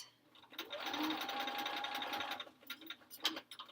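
Sewing machine stitching together quilt blocks for a sampler quilt, a steady mechanical whir running for about two seconds before slowing and stopping, then a few clicks and light handling noises.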